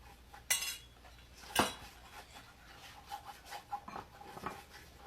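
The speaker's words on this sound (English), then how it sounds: "Now use the spatula and spread this, Hari." Spatula spreading a kaju pista mixture, soft close scraping and rubbing strokes with a couple of sharper metallic clinks near the start, quiet and without speech.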